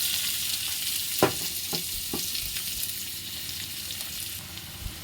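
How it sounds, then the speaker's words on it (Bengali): Chopped onion frying in a pan with cumin and a cardamom pod, a steady bright sizzle throughout, broken by a few sharp scraping stirs near the start and one near the end, fairly close with no talking. "দেখতে পাচ্ছ আমার পেঁয়াজটা ভাজা হচ্ছে"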